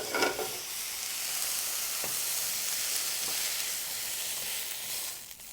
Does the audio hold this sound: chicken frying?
yes